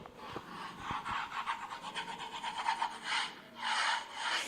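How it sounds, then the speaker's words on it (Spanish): Charcoal scraped across a drawing surface for an art exhibition, a faint, continuous dry rasping and rubbing with uneven strokes, no voices. "Es el rascado que haríamos cuando pintamos con este carbón, ¿no? Ese es el sonido del raspado."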